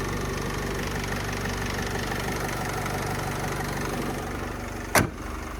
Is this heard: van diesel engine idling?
yes